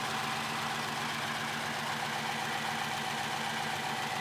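A Rover V8 engine idles in a Jeep, giving a steady, loud, continuous rumble with an even low throb and no breaks or voices throughout.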